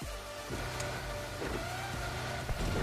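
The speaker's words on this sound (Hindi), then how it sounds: "गाड़ी में बैठते हैं और निकलते हैं यहाँ से।" Car engine in PUBG Mobile Lite pulling away, a steady motor hum with low rumble throughout, fairly loud, no talk.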